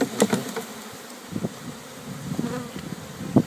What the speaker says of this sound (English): So the shaking technique is pretty simple. Put the bees right into the box